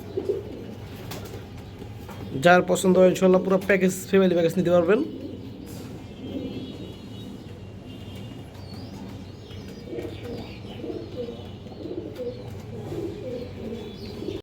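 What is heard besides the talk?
pigeons cooing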